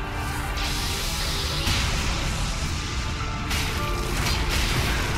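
Wide-reaching boss explosion in Dark Souls 3, a loud sustained roar of blast and crackling debris with swelling bursts midway and near the end, no voices present.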